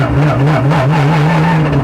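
A Porsche 911 GT3 engine running loud and close from inside the car, a sustained steady drone whose pitch wavers slightly as the revs rise and fall, heard alone without talk.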